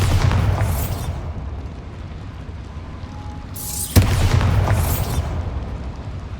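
A Bombarda blasting spell in Hogwarts Legacy goes off inside a small mine, giving a loud, booming explosion followed by a rumbling tail, then a second heavy burst a few seconds later.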